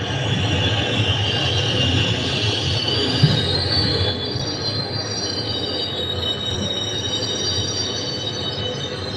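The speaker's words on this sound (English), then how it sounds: "The train came to a halt with a loud screech." A train grinds along with loud, sustained metallic wheel squealing as it slows, the high screech steady over a rumbling rail noise.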